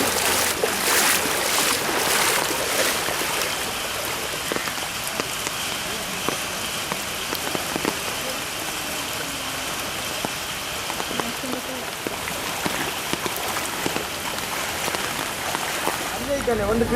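Heavy monsoon rain and floodwater rush through waterlogged neighbourhoods near Ullal during a rescue effort, a constant loud splashing roar with scattered drip and patter accents, voices faintly audible underneath.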